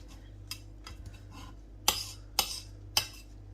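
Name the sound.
chopping methi (fenugreek) stalks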